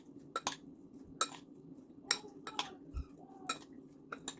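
Shrimp taco filling with sriracha being stirred in a bowl with a utensil, giving a few scattered clinks and scrapes against the bowl over a quiet background.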